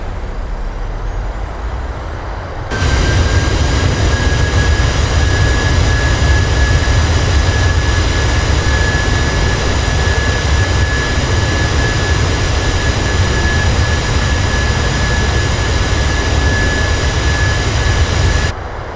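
A PMDG 737-800 in a flight simulator deploys its thrust reversers on landing, jumping into a loud, sustained roar with a steady whine that holds evenly for about fifteen seconds before cutting back down.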